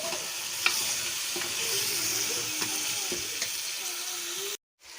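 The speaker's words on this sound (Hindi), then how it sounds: "और इसको थोड़ी देर के लिए हम अच्छी तरह से भून लेंगे" Boiled meat fries in a pot for a yakhni-style curry, giving a dense, loud, continuous sizzle with occasional stirring scrapes close by, which cuts off abruptly near the end.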